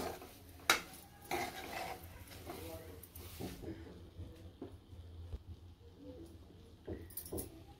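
Metal spoon scraping and clinking in a pan as sweet jaggery coconut sheera made from semolina is stirred, with irregular knocks and scrapes, a sharp clank early on, under intermittent quiet talk.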